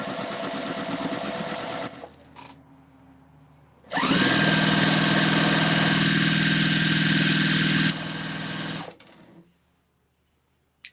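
A sewing machine stitches strips of Christmas fabric together, running in loud, steady bursts: a short run, a pause, then a long sustained whir for about four seconds before it stops.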